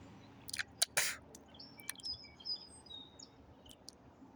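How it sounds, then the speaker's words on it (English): Birds chirp and tweet in short recorded sound bites, with a few sharp close calls early on followed by thinner, fainter high twitters over a quiet background hiss. "Just listen to the birds. These little sound bites of birds."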